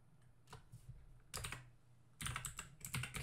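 Computer keyboard typing in short bursts of quick clicking keystrokes, close and fairly quiet, with brief gaps between runs.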